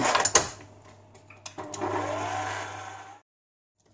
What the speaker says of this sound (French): Et on envoie tout dans le mixeur.